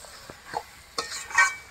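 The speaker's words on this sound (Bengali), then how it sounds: "সাথে মাংসটা ভালো করে মিশিয়ে দেবো" Chicken is mixed and stirred in a pan, giving a few soft scrapes and clinks of a spatula against metal over a faint sizzle, close and irregular, with no speech.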